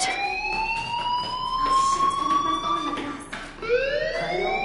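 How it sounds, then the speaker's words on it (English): A school fire alarm blares in the game Life is Strange, a steady, loud wailing tone that runs continuously without a break. "Hey, do you hear that fire alarm?"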